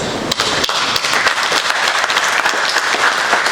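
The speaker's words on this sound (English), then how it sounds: "I thought people would clap hands" A crowd applauds steadily at a university research and innovation week event, dense clapping filling the room at a loud, even level for a few seconds.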